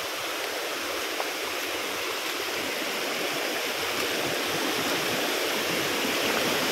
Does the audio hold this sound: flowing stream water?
yes